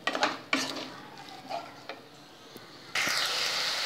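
A utensil scrapes and knocks against a pan as boiled potatoes are stirred into cabbage, giving irregular clinks and scrapes before a brief sizzling rush near the end.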